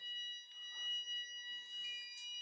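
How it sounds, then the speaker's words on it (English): An electronic alarm, either a fire alarm or a phone, sounds during a conference talk on refactoring: a steady, high, piercing beeping tone that holds continuously over a quiet room with no speech. "Is that the fire alarm or is it your phone, Stig?"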